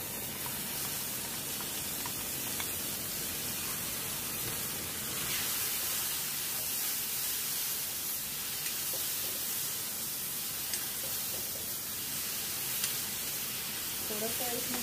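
Okra frying in a pan with tomato puree and kasuri methi gives a steady, hissing sizzle that stays loud and even throughout.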